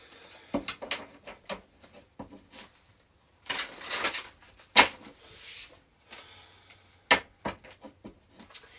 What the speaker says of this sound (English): I just shuffle them and clean them.